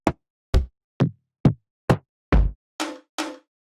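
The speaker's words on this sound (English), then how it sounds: "And we got 15 toms, which are really important in the stem style" Eight punchy electronic tom hits from an STMPD style dance sample pack play in even succession, deep thuddy ones first and brighter, noisier ones at the end, each short and close, with no voices.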